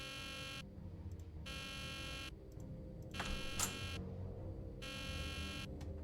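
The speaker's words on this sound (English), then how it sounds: "I'd better see what that alarm is about first." In a Nancy Drew mystery game, an alarm buzzes in long, repeating pulses with short gaps between them, steady and fairly loud, over a low background hum.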